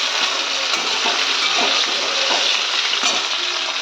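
Pieces of boiled potato fry in a pan, giving a continuous dense sizzle with light stirring scrapes throughout, close and fairly loud.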